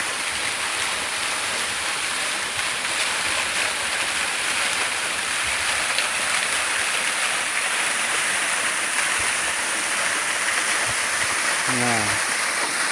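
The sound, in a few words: Jumok waterfall in Magetan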